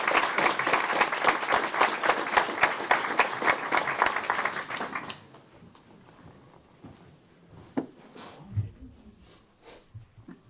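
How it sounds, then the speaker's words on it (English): Council meeting audience applauding for about five seconds, dense steady clapping that then stops, leaving quiet room noise with a few faint shuffles and brief sounds. "Let's give them a round of applause."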